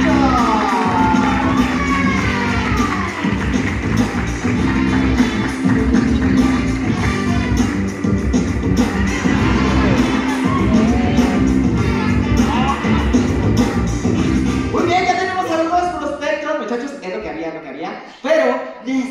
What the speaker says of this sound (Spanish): ¡Un buen aplauso, muchachos!